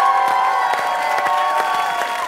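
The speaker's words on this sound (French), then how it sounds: "Est-ce qu'on peut l'applaudir?" A live talk-show audience applauds and cheers for a singer, a steady burst of clapping with some whoops, fairly close and continuous throughout.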